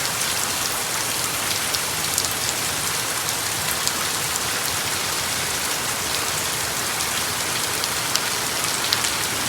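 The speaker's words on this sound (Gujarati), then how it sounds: "અત્યારે આપણે વરસાદ આવી ગયો છે બરાબર" Steady rain pours down onto surfaces, making a dense, even hiss of drops that stays constant and close with no other sounds.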